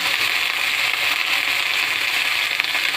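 Boiled cauliflower dropped into a hot karahi fries with a loud, steady close hiss and faint crackle that holds evenly throughout, with no talk.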